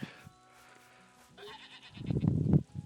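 Goat bleating in the farming video game Story of Seasons: A Wonderful Life: a soft game tone and chime at first, then a loud, wavering bleat near the end with no talk.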